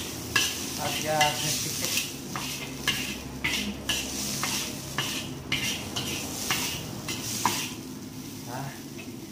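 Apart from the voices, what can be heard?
stir-frying squid for seafood fried rice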